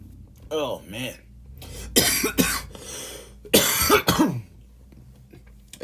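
Harsh, close coughing after a bong hit, several hacking fits in two clusters with throat clearing between them and quiet gaps around them.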